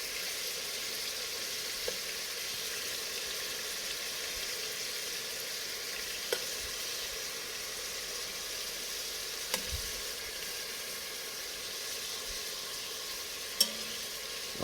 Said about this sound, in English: cooking off the meat like this, you are going to sear in or seal in the actual the beef and the juices